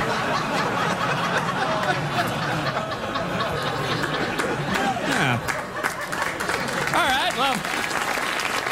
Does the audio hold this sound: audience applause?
yes